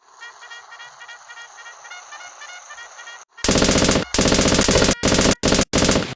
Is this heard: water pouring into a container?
no